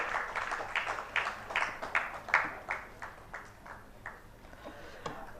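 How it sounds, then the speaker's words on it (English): Scattered clapping from a small audience at an award presentation for BPIT students at an IEEE conference evening, moderately close, with individual claps and a brief swell before thinning out. "A huge round of applause to BPIT students also."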